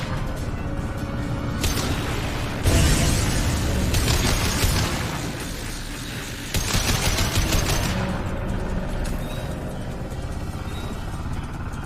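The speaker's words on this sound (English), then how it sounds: "Oh, I have to shoot those things." Loud bursts of gunfire and booming impacts from the video game Mass Effect Legendary Edition come in dense, sustained volleys with short breaks between them, close and heavy, with little talk.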